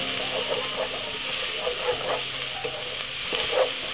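White onion, garlic, spring onion, thyme and a little ginger frying in a pan, giving a steady loud sizzle with occasional stirring scrapes, close up and without talk.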